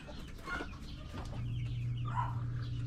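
Hens cluck on a small poultry farm where breeder chickens are kept, with short calls scattered over a steady low hum and no talking.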